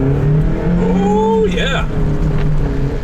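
Mazda Miata accelerating hard in a straight line on a test track, engine note climbing steadily through a gear change, loud and close inside the cabin, with a man exclaiming over it.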